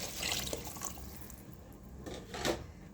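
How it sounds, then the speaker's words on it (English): Water is poured into a pot of cooked ingredients ahead of mung beans, giving a steady rushing, splashing stream with small gurgles and drips, close and moderately quiet, with no talking. "I'm going to add water before adding my mung beans."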